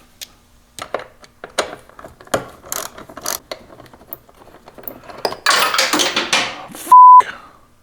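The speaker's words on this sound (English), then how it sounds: "Then I'll remove this bolt holding the airbox onto this bracket." A ratchet clicks in short bursts as a clamp is loosened and an airbox bolt is removed on a Toyota 4Runner. Sparse metallic ticks and rattles build to a longer run of ratcheting, then a brief electronic beep follows.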